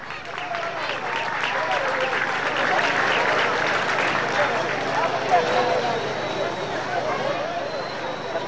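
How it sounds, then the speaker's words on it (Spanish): A large outdoor crowd at a school dance presentation in Cochabamba gives sustained, loud applause mixed with cheering, a broad unbroken wash of sound that swells slightly midway. "reciban con un muy fuerte aplauso a esta unidad educativa que nos representa con la danza"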